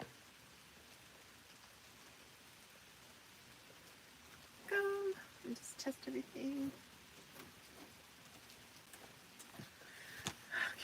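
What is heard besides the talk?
rain falling in a forest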